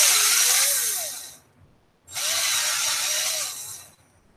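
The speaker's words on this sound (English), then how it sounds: "They will drill through just about anything." An upgrade-grade drill bit spins in a power drill, giving two loud, steady whirring bursts that rise and wind down, separated by a short pause.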